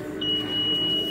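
A ride-on shopping cart in a store emits one steady, high electronic beep tone that holds for about a second over a low hum of store background noise.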